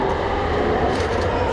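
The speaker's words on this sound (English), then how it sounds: "Just getting off the subway." A subway train in Dalian, China, rumbles loudly and continuously at a station, a dense, close roar with no pauses and no voices.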